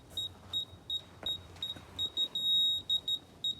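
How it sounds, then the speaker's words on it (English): A handheld level tool gives short, high-pitched electronic beeps in an irregular rhythm, then one longer steady tone, heard fairly close and clear over quiet background noise. "What's the solid beep you're talking about?"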